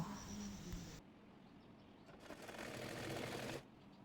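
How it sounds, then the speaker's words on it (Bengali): A sewing machine stitches a dress neckline in short bursts: a rapid mechanical whirr starts, pauses, then runs again for about a second, faint and close. "এবার চাপ সেলাই দিয়ে নেব"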